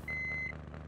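A single high, pure reversing beep from a car in the Hill Climb Racing 2 video game sounds for about half a second over low game engine hum.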